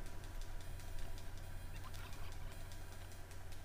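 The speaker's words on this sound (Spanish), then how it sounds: "Hay un pavo." Turkey gobbling in the survival video game Last Day on Earth: Survival, a faint rattling call over a steady low background hum of game ambience.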